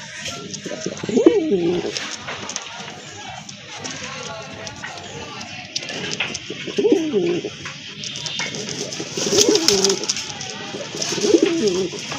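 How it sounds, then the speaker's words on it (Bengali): Large local pigeons coo repeatedly nearby, deep throaty rolling calls coming every few seconds, while a person talks over them. "আরেক জোড়া কবুতর বড় পায়রা অনেক বড় সাইজের কবুতর"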